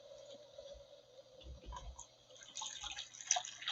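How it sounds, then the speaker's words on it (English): Boiled water is poured from a pot into a bowl, with soft splashing and trickling that builds to a fuller, brighter pour near the end, fairly close and moderately quiet. "Now that your water has boiled, we're going to transfer it into a bowl"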